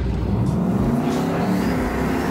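A loud Camaro IROC-Z engine roars and revs continuously at high pitch in third gear with line lock engaged and traction control off, steady and close, with no talking.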